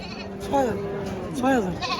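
At the Hazratpur cattle market during Eid-ul-Adha 2025, a goat bleats twice in quavering calls close by, set against a murmur of market background noise.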